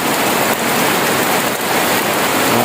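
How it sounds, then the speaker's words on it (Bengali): Heavy rain pours down steadily, a dense continuous hiss of drops close by with no voices. "প্রচুর বৃষ্টি, প্রচুর।"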